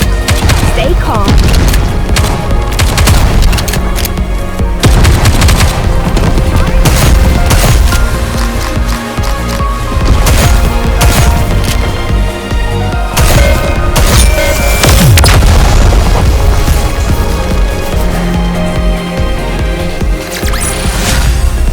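Gunfire and explosions crackle and boom continuously through a video game battle against raptures, with bursts of shots and heavy impacts layered over game music, and voices calling out briefly amid the fighting.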